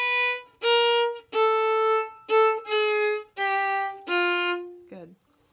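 Violin plays the opening phrase of the Habanera from Carmen, starting on B natural: seven sustained, clearly separated notes with rich harmonics, loud and close, ending on a short, lower, fading note.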